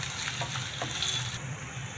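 Tempering with onion, garlic paste, turmeric and chilli powder sizzling in a pan, a steady close frying hiss with faint stirring, no talk.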